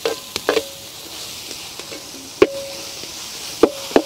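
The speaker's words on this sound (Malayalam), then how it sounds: "ഉള്ളി വഴറ്റിയെടുക്കാം." Onions sautéing in a pan for a lobster gravy at a village outdoor kitchen: a low background sizzle punctuated by a few sharp knocks and scrapes of a spoon against the pan, close up and without speech.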